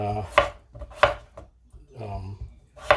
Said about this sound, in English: I'll cut this one other potato up